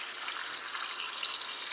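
Tap water poured over urad dal and fenugreek seeds set to soak for paniyaram batter, a steady, even rushing hiss that runs unbroken at close range with no voices.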